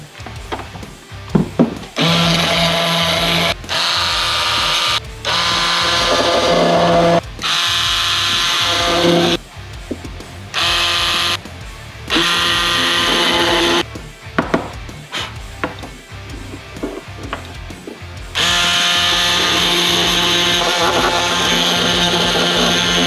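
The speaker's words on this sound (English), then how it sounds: "So I'm going to go file this down and see what happens from there." Power filing or sanding of a Harley Davidson Sportster mirror extension part, loud close bursts of harsh grinding buzz that start and stop repeatedly, ending in one longer steady run, with no voices.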